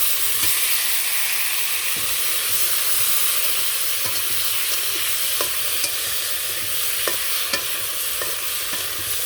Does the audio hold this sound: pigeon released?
no